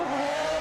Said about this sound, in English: Full throttle there, the rear tyres working against physics there, trying to keep the car on track